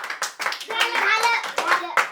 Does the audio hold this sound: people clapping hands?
yes